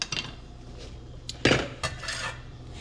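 Split pea soup ingredients being stirred in a pot, a few close metallic clanks and scrapes of a utensil against the pot, sparse and irregular with quiet gaps between.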